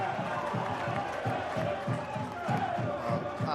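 Stadium crowd at a Saracens v Exeter Chiefs Premiership rugby match, a broad roar that swells after a big tackle, rumbling with rhythmic pulses under a commentator's voice.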